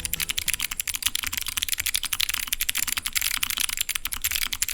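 Rapid, steady typing on a mechanical keyboard fitted with Arctic Fox clicky switches, the crisp, sharp clicks dense and continuous throughout, close and fairly loud with no voices.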